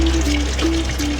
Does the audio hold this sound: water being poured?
yes